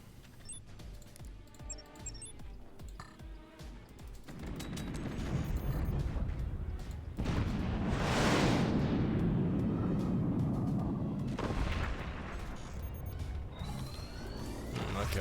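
Howitzer artillery in the game Forts fires with a heavy boom partway through, followed by a long rumbling roar and scattered distant blasts amid game effects.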